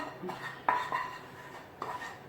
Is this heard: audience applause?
no